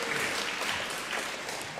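An audience applauds at an Oxford debate, a dense, sustained patter of clapping from many hands filling the hall evenly from start to finish.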